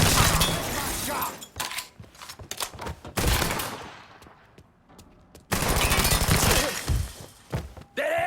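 An enemy shooting at the player in the video game Mafia 3, loud bursts of rapid gunfire and shattering impacts in several clusters separated by quieter gaps, with brief voices in between.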